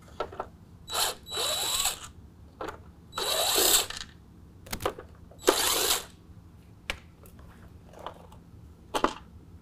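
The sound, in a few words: 10mm tool removing nuts from Ford F-150 emblem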